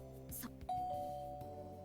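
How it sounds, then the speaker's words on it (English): A doorbell chimes in the Amnesia: Memories visual novel, a single clear, sustained electronic tone that follows brief soft background music and rings out on its own. "That was the doorbell."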